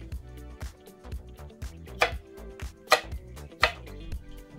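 A knife cuts asparagus spears into pieces on a cutting board, giving a close series of crisp, uneven chops with a few louder strikes and no talking.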